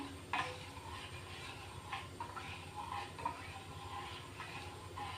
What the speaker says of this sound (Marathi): झाकण वगैरे झाकायचं नाही असं हलवत राहायचं